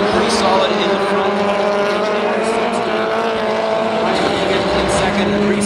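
Rallycross race cars roaring at the Global RallyCross Championship at SEMA Las Vegas 2012, a loud continuous layered engine drone from several cars near a jump and braking corner, with a commentator talking over it.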